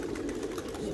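A large flock of about 700 pigeons in a loft gives off a low, murmuring coo that blends into a steady, close hum for about a second, with no talking.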